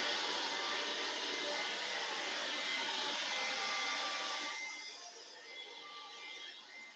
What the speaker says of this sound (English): I don't know if this blow dryer is going to be too loud